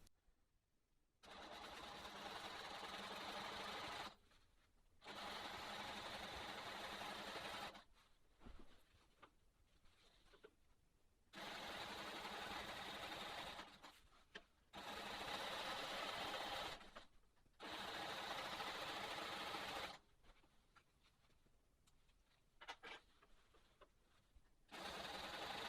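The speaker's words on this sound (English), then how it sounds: "So let's start quilting" A sewing machine quilting a sawtooth star block, running in several steady bursts of a few seconds each with short quiet pauses between them, close and clear.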